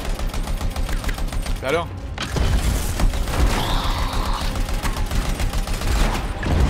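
Rapid bursts of gunfire from a gun in the Anthem video game, loud and dense throughout, layered with game effects and someone speaking briefly over the shooting.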